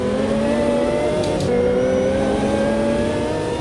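A GT1 race car engine in the Automobilista 2 racing game roars loud and steady throughout, its pitch held high with slight rises and dips as it revs hard under acceleration.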